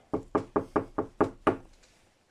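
Seven firm knocks on a door in a hallway of a reputedly haunted house, evenly spaced and close, the last two slightly slower, then quiet.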